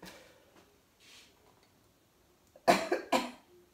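Two sharp, loud coughs come close together near the end, after a few faint, soft sounds in a quiet room where solid shampoo is being made.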